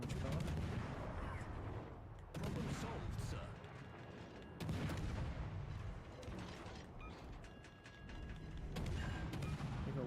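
Warship main turret batteries firing in World of Warships, repeated deep booming salvos recurring every couple of seconds with a rumbling tail, a voice talking over them.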